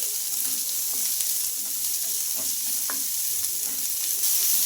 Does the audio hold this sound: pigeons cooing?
no